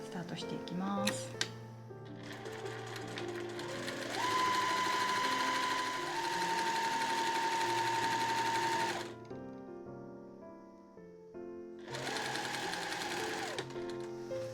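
A Juki SL700EX industrial sewing machine stitches a tote bag with a steady, fast mechanical whir and needle chatter in two long runs, separated by a brief pause. A quiet hum carries on underneath, heard close and loud.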